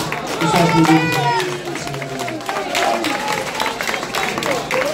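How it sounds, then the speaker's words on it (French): Steady clapping from a concert crowd at the Grand Hôtel de Kinshasa with voices and shouting mixed in, continuous and fairly loud throughout. "Il faut applaudir."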